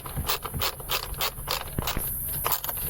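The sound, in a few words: ratchet wrench spinning freely on a bolt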